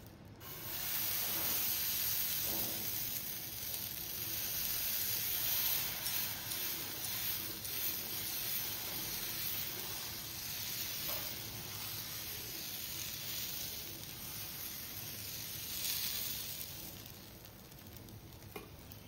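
Dosa batter sizzles steadily on a hot tawa, a loud continuous hissing crackle throughout with slight swells, close up and alone.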